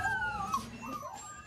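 Several dogs whimper and howl in a veterinary clinic room where more than 40 cats and dogs wait to be spayed or neutered; wavering, rising and falling cries overlap continuously at moderate volume.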